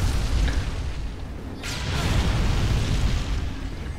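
A generator blows up in the zombie video game Dead Rising 3, a sudden burst partway through followed by a rumbling, crackling roar over dense game background noise.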